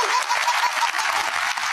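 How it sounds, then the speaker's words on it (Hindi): Audience clapping, a brief burst of many hands in steady applause, fairly loud and even, lasting under two seconds. "देखो ताली पीट रहे हैं।"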